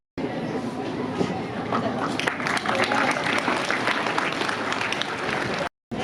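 An audience at a school results ceremony applauds, a dense sustained clapping with crowd chatter and a voice speaking over it, breaking off briefly near the end.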